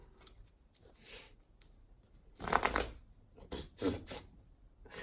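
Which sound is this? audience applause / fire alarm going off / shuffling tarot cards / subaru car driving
shuffling tarot cards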